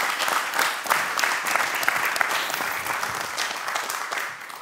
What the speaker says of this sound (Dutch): Mag ik een hartstikke groot applaus voor deze drie mensen?